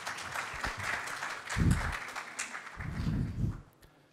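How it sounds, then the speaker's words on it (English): Audience at a data forum applauds as a presenter comes to the microphone, soft scattered clapping heard from a distance, fading out near the end. "And now we can give a warm applause to Mr. Zaid Ibrahim."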